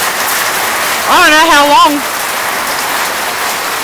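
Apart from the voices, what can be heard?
hail falling on a tin roof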